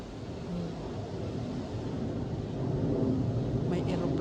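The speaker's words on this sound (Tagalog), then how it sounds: "May eroplanong dumaan" A distant airplane passes overhead above a windy garden after rain, with a typhoon approaching. Its steady low rumble swells slightly toward the end, blended with gusty wind noise.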